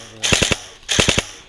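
Airsoft gun fire on an outdoor field, two close, loud bursts of three rapid shots each, separated by a short pause.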